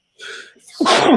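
A single loud, close human sneeze with a short intake before the burst, indoors during a bourbon and cigar chat.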